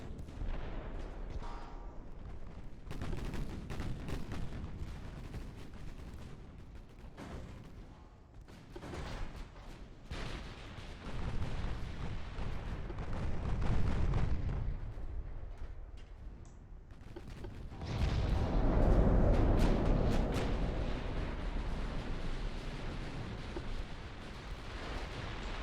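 Naval gunfire from warships in the video game Ultimate Admiral: Dreadnoughts, with repeated heavy cannon booms and rolling salvos layered over a low rumble, swelling into a dense, loud barrage near the end.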